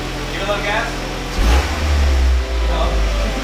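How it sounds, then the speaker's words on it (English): A Mazda Miata engine blipped under the open hood during an engine mount install, a low close rumble that rises in two short revs while people talk nearby. "Give it a little gas."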